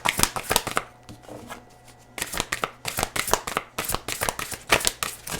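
Tarot cards are shuffled in quick, crisp riffling bursts, close and fairly loud, with a short quieter pause before the shuffling picks up again and continues to the end.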